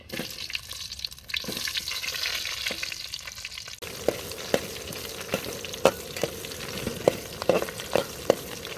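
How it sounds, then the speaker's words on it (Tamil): Shallots frying in oil with fenugreek and mustard seeds for a murrel fish curry: a soft hiss at first, then a louder steady sizzle with sharp pops and stirring scrapes recurring about every half second, close by, with no talking. "வெந்தயமும் கடுகும் நல்லா படப்படன்னு பொரிஞ்சு வந்தோடனே நம்ம சின்ன வெங்காயம்,"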